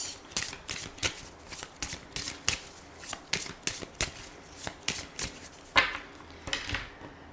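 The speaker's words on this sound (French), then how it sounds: "Donc je vais faire un tirage en 9 cartes pour voir ce qui va se passer." Petit Lenormand oracle cards are shuffled by hand in a steady run of quick, crisp riffling slaps, close and moderately loud, with no voices.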